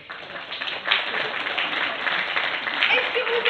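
An evening show's audience applauds warmly and steadily, a broad wash of clapping that swells slightly and carries on to the end.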